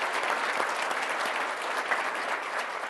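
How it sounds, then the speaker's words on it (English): Sustained, dense applause from an audience at a manufacturing excellence awards ceremony, honoring the other finalists; steady and even throughout, with no voices above it. "Let's give a round of applause to the other finalists"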